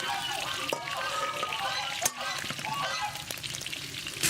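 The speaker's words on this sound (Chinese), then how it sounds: "锅里不用倒油，直接炒五花肉。" Pork belly sizzles in a dry wok with no added oil, giving a steady close crackle with brief spatter. A person talks over it throughout.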